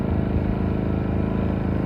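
A Maxpeedingrods 3300-watt inverter generator runs at a steady idle, its exhaust giving off a constant low, buzzing hum with an even mechanical drone, close and unbroken, with no speech.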